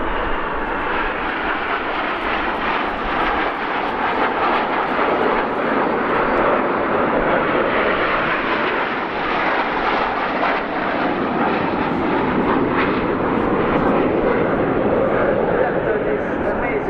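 Frecce Tricolori Aermacchi MB-339 jets pass in formation at an air show, a loud, continuous broadband roar that holds for the whole stretch, with a voice faintly over it.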